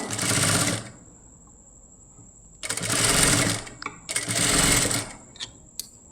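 A sewing machine stitches the lining at a blouse neckline in three loud, steady runs with pauses between, followed by a few short clicks and taps near the end.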